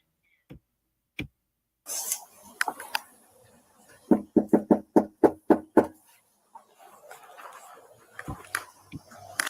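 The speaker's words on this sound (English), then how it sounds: "the second officer came up and started banging on the door" A police officer bangs on a house door: a couple of isolated knocks, then a rapid run of about nine loud, evenly spaced blows, followed by quieter muffled sounds and faint voices.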